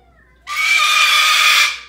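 An African grey parrot lets out a loud, sustained screech that starts abruptly after a quiet moment indoors and holds steady for over a second before cutting off.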